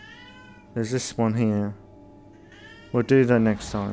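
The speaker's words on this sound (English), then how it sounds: "Sorry about my cat." A house cat meows repeatedly in short, insistent calls close to the microphone, overlapping with someone talking during a video game session.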